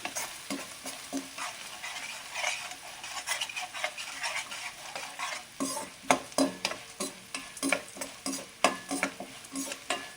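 Chili flakes and a spoonful of asafoetida frying in hot oil, with a constant crackling sizzle and the busy rhythmic scraping and clinking of a spoon stirring the pan close by, with no voices.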